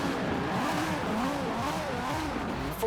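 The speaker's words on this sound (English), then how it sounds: "Sadly, this engine doesn't sound too amazing." A 2JZ-swapped car in Forza Horizon 4 drones steadily at high revs, its engine note wavering slightly throughout a short stretch with no voices.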